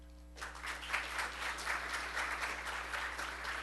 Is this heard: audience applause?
yes